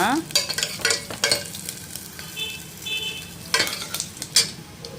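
Curry leaves, garlic and dried red chillies frying in oil for a tempering, stirred in a pan with crackling sizzle and repeated scraping strokes, close and steady with no talk.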